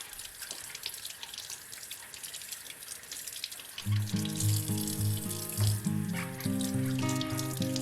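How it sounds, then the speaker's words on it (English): A kitchen tap runs steadily as oranges are washed beneath it, giving a constant close hiss of water, with background music joining partway through. "You have to wash the oranges"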